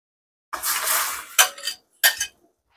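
Chopped okra, pineapple, chili and sliced tomato are tipped into a pot for clam soup, giving a long sizzling splash followed by two shorter bursts of clattering utensil and pot noise, close and loud with no talk.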